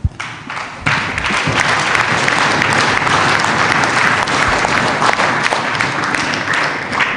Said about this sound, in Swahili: Tunapiga makofi sasa, nawaelekeza